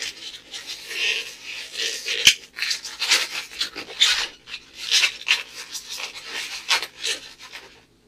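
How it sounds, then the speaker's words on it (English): Latex balloon squeaking and rasping as it is pinch-twisted into a small bubble while shaping a one-balloon T-Rex, with repeated close rubbing squeals in bursts and a sharp snap near the middle, no talking. "Make a soft 1 inch bubble and pinch twist it."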